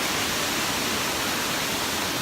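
A small waterfall pours into an alpine swimming pond, making a loud, steady, broadband rush with no break and no voices over it.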